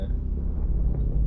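A nuclear bomb blast in the Minecraft Rival Rebels mod comes through as a deep, continuous low rumble at moderate level, with no distinct crack or voices on top.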